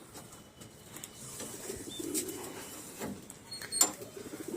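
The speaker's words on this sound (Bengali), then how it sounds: "এই যে নর পায়রাগুলো দেখুন" Male pigeons coo softly in a home loft, low murmuring calls rising and falling over quiet background noise, with a faint click or two.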